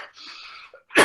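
A short breathy rasp, then one sharp, forceful staged cough close up, ending abruptly.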